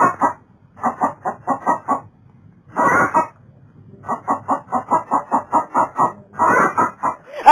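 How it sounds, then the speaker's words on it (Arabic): A hen clucks in loud, close bursts of rapid clucks separated by brief pauses, with a few longer drawn-out squawks between the runs. "انا عندي فرخة حولة بتكاكي، مش بتقول كاك، بتقول كعوك."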